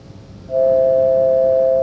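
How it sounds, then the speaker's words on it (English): A telephone dial tone sounds after the handset is lifted off the hook, a steady continuous hum starting abruptly and holding loud and unchanged over faint background hiss. "I can actually take the phone off the hook"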